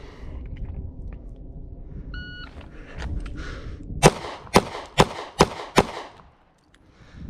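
A string of five sharp, loud S&W Shield 1.0 pistol shots cracks out at a quick, even pace on a shooting range, preceded by quiet handling noise and followed by near silence.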